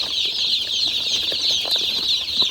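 Newly arrived chicks scattered around the ring of a brooder pen on a chicken farm, a dense, steady chorus of high peeping with faint fluttering and shuffling, close and continuous with no voices.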